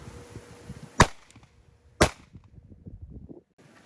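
Two sharp, loud gunshots about a second apart from a Sig P365 XL 9mm pistol fired into clear ballistic gel, with quiet outdoor background between and after the shots.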